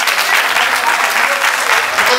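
A church congregation claps in sustained, dense applause at a testimony service, loud and close throughout, with a voice faintly mixed into the crowd noise.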